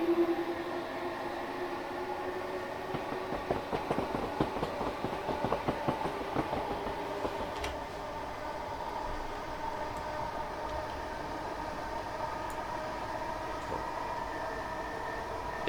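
A Class 455 electric train runs on the South West Main Line in Train Simulator Classic, giving a steady low rumble and hum with a run of rhythmic wheel clicks over rail joints, moderately loud throughout.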